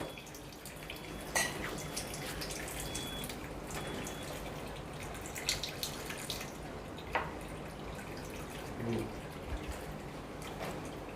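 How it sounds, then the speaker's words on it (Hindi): Water runs steadily from a Kangen water ionizer machine into a glass, a continuous soft flow with a few sharp clinks and drips scattered through it, while a person talks nearby. "देखिए कैंगन निकलना स्टार्ट हो गया है।"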